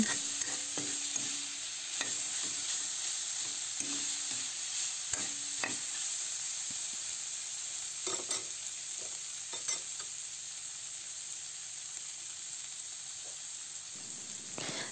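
Seasoned chicken being stirred in a sizzling pan, a steady hiss with repeated scraping and knocking strokes of a utensil against the pan, no voices.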